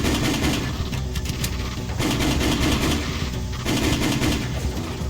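Rapid automatic gunfire in the open-world action game Just Cause rattles continuously and loudly for several seconds in dense bursts, with brief dips between volleys and no talking.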